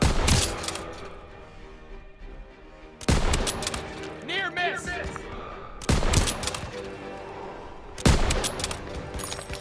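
Call of Duty: WWII gameplay with repeated bursts of gunfire in several clusters, loud bangs separated by quieter stretches, with rooftop fighting near flak guns and faint speech-like sounds among the shots.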